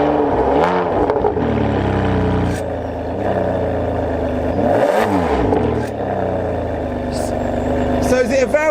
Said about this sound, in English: Do you want to start the engine? Let's have a little listen to it.